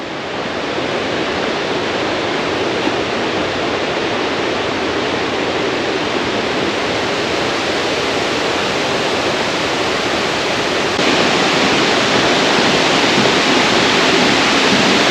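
Agate Falls rushes in a loud, constant roar of broad noise, unbroken for the whole stretch and growing slightly louder near the end.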